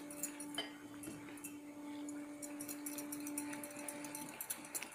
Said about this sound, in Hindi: अच्छे से मिक्स कर लेना है हमें चलाते हुए।